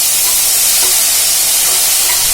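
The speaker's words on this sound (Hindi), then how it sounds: "मैंने पेस्ट डाल दिया और अब मैं इसे भूनूंगी" Garlic spice paste fried in a pan, added after cumin, gives off a loud, steady hiss of sizzling that fills the short stretch without a break.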